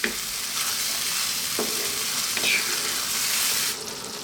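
Gorgonzola blue cheese cream sauce stirred in a pan over low heat, a continuous close sizzling hiss with soft scraping strokes, slightly quieter near the end.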